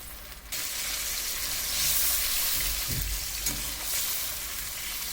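Prawns shallow frying in hot oil in a pan give a steady, close sizzle, with a few soft stirring knocks partway through.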